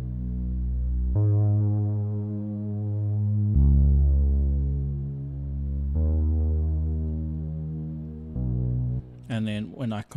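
A 70s analog lead patch from Logic Pro X's retro synth plays a slow melody of long, sustained low notes in four held phrases, loud and alone, before a voice cuts in at the end.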